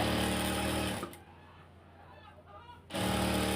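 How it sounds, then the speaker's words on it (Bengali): A sewing machine stitches a ribbon onto the neck of a hijab, a close steady whirring that stops for about two seconds and then starts again. "এখন নেকআপে যে ফিতাটা লাগাবো সেই ফিতাটা এখন আমি এখানে সেলাই করে নিব"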